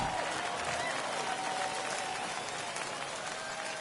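A home ballpark crowd in MLB The Show 21 roars and claps in a steady, dense wash of cheering and applause that holds evenly throughout with no distinct voices standing out.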